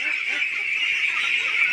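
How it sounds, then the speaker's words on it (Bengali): A flock of ducklings on a duck farm, roughly a thousand birds, calls in a dense, steady, high-pitched peeping chorus that carries without a break. "আমাদের যে হাঁসের বাচ্চাগুলো সাড়ে নয়শো পিস হাঁসের বাচ্চা"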